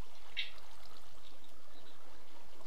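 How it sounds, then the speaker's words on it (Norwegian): Water flows in Minecraft, a constant trickling and pouring wash at moderate level with a short bright tick near the start. "det er vann inni her, det er kilda inni her som gjør at det regner ut"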